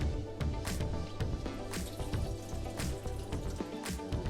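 Water pumped through a hose into the top tray of a nursery grow box for clones, seeds and microgreens gives a steady close splashing and trickling, with no voices.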